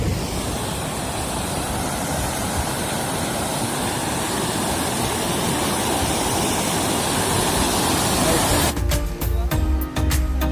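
A loud, continuous roar of water pouring over Ariyanayagipuram dam in Tirunelveli, steady and close, with a rhythmic mechanical rattle near the end.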